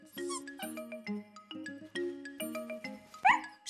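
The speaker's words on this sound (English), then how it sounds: "Oh, Snuffy, said Miffy, you are such a clever little dog." A small cartoon dog in a children's animated show gives a run of short, high barks and yips, bright and close, over light music.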